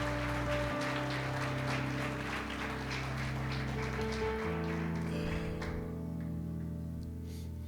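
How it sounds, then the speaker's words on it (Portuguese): Church congregation clapping, a soft rain-like patter of many hands over sustained instrumental tones that fades toward the end. "Dá uma salva de palmas para Jesus aí."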